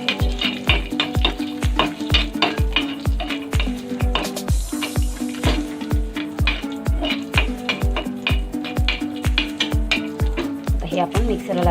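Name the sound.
cashews frying and being stirred in pan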